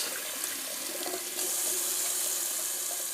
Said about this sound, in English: I'm just going to do a little cold water rinse